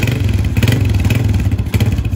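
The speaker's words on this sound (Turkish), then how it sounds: "Motor güzel, sadece egzozu bana garip geliyor." A Kuba CG motorcycle runs close by with its engine and exhaust sounding, a loud, steady low chugging with a rattly, pulsing beat and slight surges in revs throughout.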